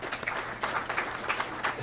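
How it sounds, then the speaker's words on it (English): Applause at a signing-day ceremony at a technical college, a steady round of clapping that swells and dips in short waves, moderately loud and continuous with no talk over it. "please give her one more round of applause"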